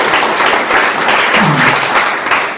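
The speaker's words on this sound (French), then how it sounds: "Merci Cyril, on peut l'applaudir." Attendees at a mobile advertising breakfast event give sustained applause, a dense, loud wash of clapping that holds steady throughout with a brief voice near the middle.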